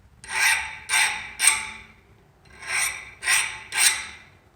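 A thin file rasps across a hardened steel dagger blade in six distinct strokes, three in each group with a short gap between, each stroke a bright, harsh scrape heard up close with no one talking.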